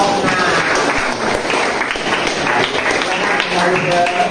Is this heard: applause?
yes